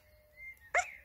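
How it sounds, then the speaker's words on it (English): A cartoon worm gives a single sudden hiccup, a short sharp squeaky gulp after a faint tonal hum, close and alone in a quiet moment. "All that earth has given you hiccups"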